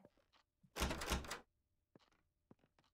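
A door opening in the horror game Ghost Exile, a single loud rattling, scraping burst lasting about half a second, surrounded by faint clicks and taps.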